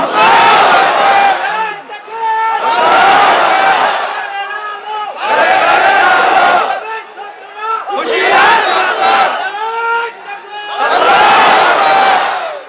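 A large crowd at an open-ground Islamic religious rally roars the takbir chant in five loud, rhythmic bursts, many voices shouting together with short pauses between each call.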